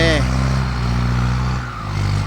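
A tractor works wet clay ground on a Khon Kaen worksite, its engine a steady low drone close by, holding at an even level throughout with a brief dip near the end.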